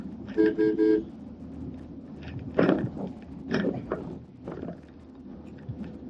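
A car being driven to a parking space along a busy road, with engine and traffic rumble, a short burst of car horn toots near the start, and further passing vehicle noises.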